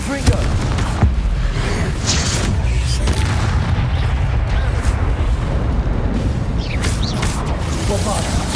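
Confringo fire-blast spell cast in the Hogwarts Legacy video game, heard as a sustained, dense booming rumble with a sharp burst near the start and continuous low explosive roar throughout, loud and close.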